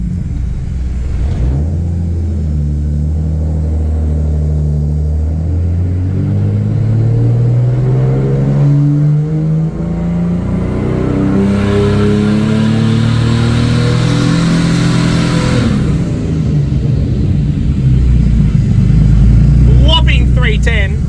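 A turbocharged engine with a freshly built bottom end warms up on a hub dyno, a steady low rumble with revs climbing and easing back in smooth sweeps, loud and close throughout.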